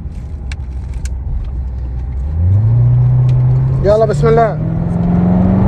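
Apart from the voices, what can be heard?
Chevrolet Corvette Grand Sport race car engine revving on track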